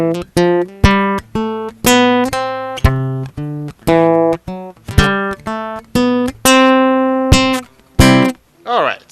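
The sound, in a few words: guitar solo and drums played together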